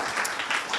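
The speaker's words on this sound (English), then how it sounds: "another applause, please" A short burst of audience clapping at a cyber accelerator pitch event, a dense patter of hands heard for under a second.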